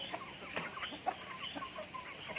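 A neighbour's hens cluck in grass where they lay eggs, giving soft, scattered clucks and short calls at close range over quiet outdoor background.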